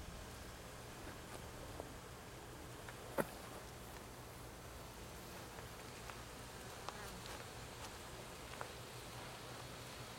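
Honeybees buzzing around an open hive during an inspection, some carrying pollen, make a soft, steady drone close by, with a few faint clicks and rustles.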